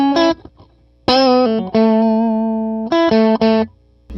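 Stratocaster middle pickup through a Dumble-modded Tweed Deluxe 5e3, a short overdriven guitar phrase of plucked notes and sustained tones with brief gaps, warm and slightly broken up, loud and close.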